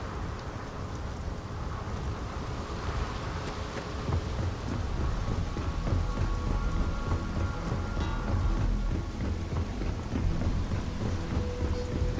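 Steady heavy rain and rolling thunder over a futuristic city in Starfield that draws its power from lightning, a dense continuous storm wash with low rumbles swelling underneath and no voices.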